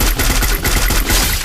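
Loud, dense automatic gunfire in a shooter video game, a rapid continuous burst of shots filling the whole short moment, close and harsh, with no talking.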